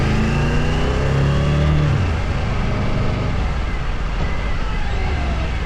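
Cars passing on a road in the Dolomites, a steady broadband engine and tire roar with one vehicle's lower drone fading early, continuous and fairly loud without gaps.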